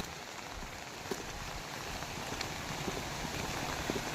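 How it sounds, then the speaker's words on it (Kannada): Steady rain pours over waterlogged farm fields in a flooded village, a dense, even hiss with a few scattered louder drops, continuous and fairly close throughout. "ನೋಡಿ ಯಾವ ತರ ಮಳೆ ಆಗ್ತದೆ"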